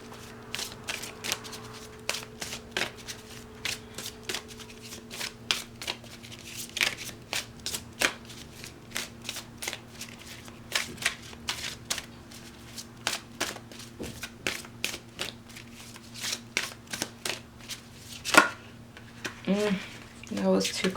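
Oracle cards shuffled for a tarot reading, a steady run of soft, quick riffling flicks close to the mic, recurring throughout over a low constant hum.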